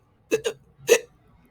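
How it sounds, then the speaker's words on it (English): Three quick hiccups in a row, two close together and then a third a moment later, loud and near with silence in between. "Oh goodness, looks like you have hiccups too."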